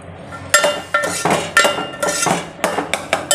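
A steel pot and a puran strainer clink together about ten times in a sharp, uneven metallic rhythm. The contact is close and bright, and there is no talking.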